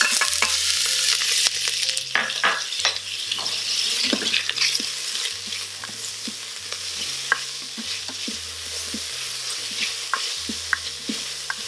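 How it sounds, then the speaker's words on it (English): A spoon stirs onions into hot melted queso in an Instant Pot. Close, continuous scraping and wet sloshing carry steadily throughout, with low hums and occasional clinks against the pot. "So mix that up real good."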